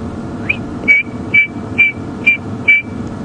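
A red-crested korhaan gives a run of piping whistles at Djuma Game Reserve, five or six evenly spaced clear notes over a low vehicle rumble from a safari drive.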